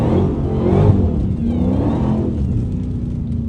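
A Dodge Hellcat with traction control switched off revs hard while sliding through a corner, giving a loud, close engine roar that rises and falls under sustained throttle, with no talking.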